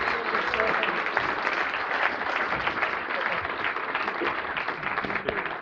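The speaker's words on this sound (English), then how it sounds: "one more round of applause" Audience applause fills a closing session at the Saintcon security conference, a steady, dense wash of many hands clapping that holds evenly from start to finish without a break.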